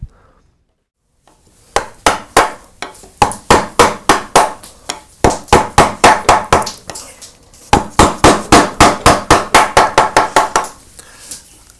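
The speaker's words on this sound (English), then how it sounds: "this particular gouge has a very thick shank here, and because of that I can use it with a mallet" A mallet striking a thick-shanked carving gouge into wood: sharp, loud, close knocks in rapid rhythmic runs of several blows, separated by brief pauses, with near silence at the start.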